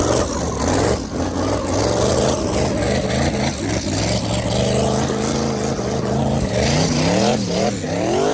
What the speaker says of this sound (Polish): Następny podjeżdża Peter Kozłowski swojej turbo doładowanej S15